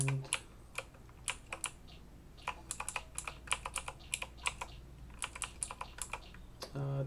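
Computer keyboard typing while playing VIM Adventures: quiet, irregular key clicks come singly and in quick bursts of several presses, with short pauses between them and no talking.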